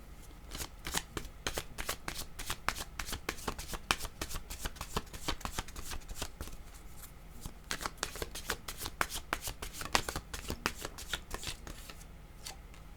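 Tarot cards being shuffled in quick, steady riffles and slaps, close and continuous, with a low background hum and no talk.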